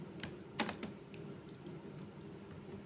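Soft, quiet typing on a computer keyboard as a short captcha is entered on a visa clearance website, a few light key taps in a quick cluster over a low room hum.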